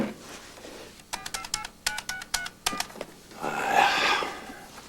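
A telephone number dialed on a touch-tone phone: around a dozen short, clear DTMF beeps in an uneven sequence, followed by a faint burst of line noise, with no voices.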